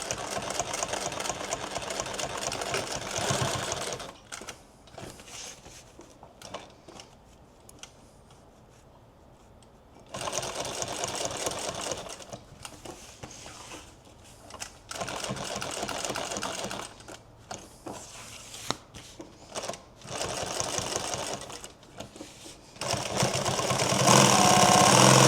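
A sewing machine stitches a custom duffle bag in several runs of rapid, even mechanical chattering. Quiet pauses separate the runs, and the final burst is loudest and closest.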